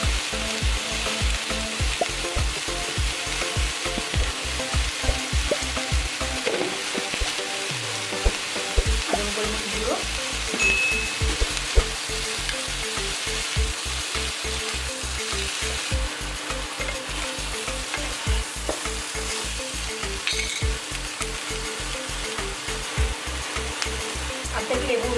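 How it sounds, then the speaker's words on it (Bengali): Broccoli and carrot, seasoned with salt, stir-fry in a hot pan with a constant close sizzle and a rapid, steady clatter of stirring against the pan. "খুব বেশি ভাজবো না, তাহলে সবজিগুলো সব গলে যাবে"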